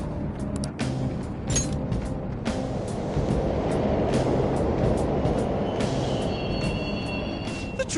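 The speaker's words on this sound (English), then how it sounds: "The trains are totally running!" Subway trains running in a tunnel in Persona 5 Royal, a continuous low rumble with metallic rattling and a few clanks, building slightly in the middle and steady throughout, with no talking.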